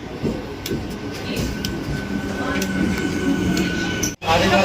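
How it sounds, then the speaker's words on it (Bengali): A train rumbles and clatters close by as it arrives at a station platform, with people's voices mixed into the noise. "আমাদের পাঁচ নম্বর প্ল্যাটফর্মে পোড়াবাজার ট্রেন এসে গেছে"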